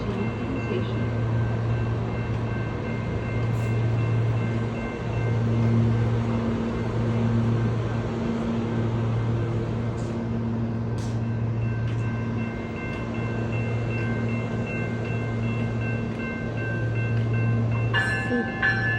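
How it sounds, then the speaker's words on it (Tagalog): Steady low rumble and hum of an MRT train idling at a station platform, with a continuous drone and faint squeals and clicks near the end; no talk over it. "This is the MRT station."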